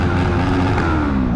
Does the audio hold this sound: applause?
no